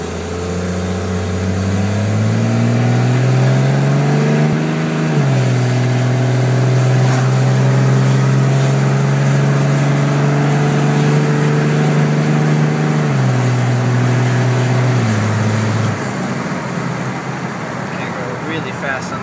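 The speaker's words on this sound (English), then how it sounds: "I'm going to do a little booster launching in the Cummins" A 2000 Cummins diesel truck with no muffler accelerates hard through the gears. The loud, raw exhaust drone climbs in pitch, drops at each shift, then climbs again, close and sustained throughout.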